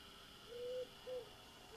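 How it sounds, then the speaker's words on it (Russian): Two soft, low hoots from an owl in a Siren Head horror video game, the first longer and the second short, heard fairly faint against a steady hiss of background ambience. "Сова тут кричит, сова."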